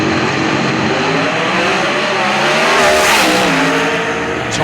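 Pro Stock doorslammer drag cars at the 2022 PDRA Doorslammer Derby in Bowling Green, Kentucky, launching with a loud, sustained engine roar that rises in pitch as they accelerate away, heard alone without talk.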